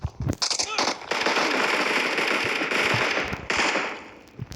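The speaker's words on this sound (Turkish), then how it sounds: "Direkt Tokyo'dan silah sesleri falan gelmeye başladı." Bursts of gunfire and explosions from a video game. Sharp pops and rattling shots come in quick succession, with a sustained noisy blast through the middle, loud and close, and no talk over it.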